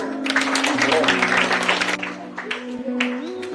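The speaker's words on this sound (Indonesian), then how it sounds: "Ya, tepuk tangan." Students at a Friday school assembly applaud, a burst of many hands clapping that thins out after a couple of seconds, with a sustained musical tone and some voices running underneath.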